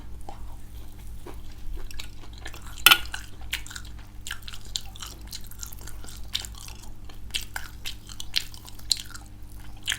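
Crispy fried chicken bitten and chewed up close, with dense crunchy bites and wet chewing sounds repeating steadily over the whole stretch, with no talking.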